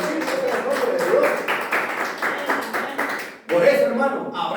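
Church congregation breaking into rhythmic applause, a quick run of claps rising and falling with a voice speaking over them, then a brief pause before clapping swells again.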